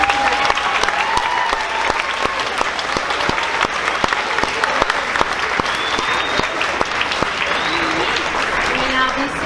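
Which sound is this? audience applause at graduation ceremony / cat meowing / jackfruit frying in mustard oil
audience applause at graduation ceremony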